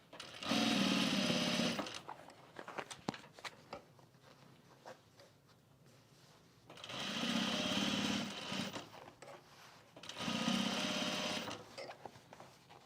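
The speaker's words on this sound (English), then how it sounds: "Just sewing along, daydreaming." A sewing machine stitches a Happy Trails travel bag in three sustained runs of fast, buzzing, steady needle motion, close and fairly loud, separated by quieter pauses with faint handling of fabric.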